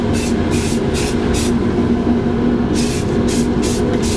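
A light coat of primer sprayed from a can onto an old wooden telephone cabinet, loud hissing bursts in a rhythmic on-off pattern, three quick sprays then a pause and several more, close to the listener.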